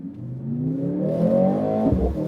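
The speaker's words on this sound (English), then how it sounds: "maybe we can turn on the engine" A 2023 Mercedes-AMG C63 S E-Performance engine starts and revs up steadily, a loud, close, building tone that swells over a couple of seconds and dips near the end.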